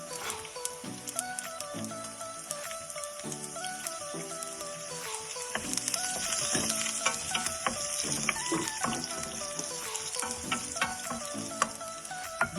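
Urad dal frying and sizzling in a pan while being stirred for cabbage thoran, a steady crackle with scraping stir strokes, fairly close, with no talk.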